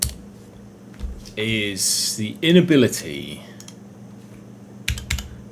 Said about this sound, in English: I'm pressing keys on the keyboard, it doesn't do anything.